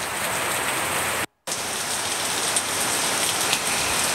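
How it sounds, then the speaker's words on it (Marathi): Steady, dense rain falling in Pune during a heavy downpour, a constant close hiss of drops on surfaces that cuts out for a moment near the start and then carries on unchanged. "सकाळपासूनच पुन्हा एकदा पावसाला सुरुवात झालेली आहे"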